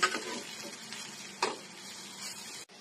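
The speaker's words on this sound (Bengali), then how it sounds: "এভাবে করে সবগুলি বড়া আমি ভেজে নিব" Drumstick-leaf fritters fry in hot oil, giving a steady, soft sizzling hiss with a few faint crackles and pops throughout.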